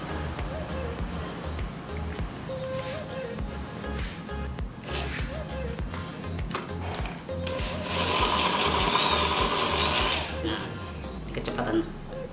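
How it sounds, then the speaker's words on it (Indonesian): Uchiha 10 mm electric drill boring into wood, a steady whirring motor that grows louder and more strained partway through, heard close up with some handling noise. "Kita akan membor kayu pertama."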